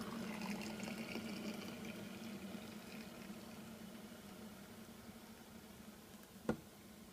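Hot water is poured over loose tea leaves inside a glass water bottle tumbler, a steady soft trickling fill that runs on quietly, ending with a single sharp knock of glass.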